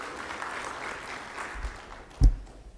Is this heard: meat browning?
no